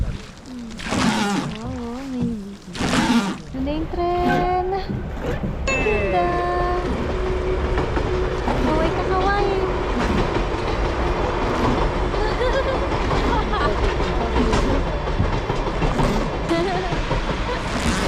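The Sagano Romantic Train in Arashiyama, Kyoto rolls past with a loud, sustained rumble and rhythmic clatter of wheels, while people exclaim and chatter over it.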